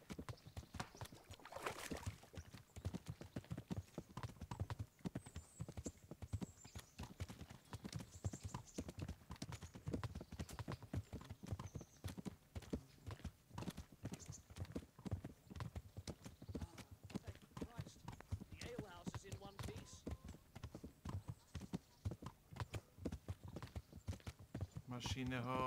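Horse hooves clip-clopping steadily in Kingdom Come: Deliverance, a continuous walking rhythm of hoof falls throughout, with a whinny early on and players talking over the top.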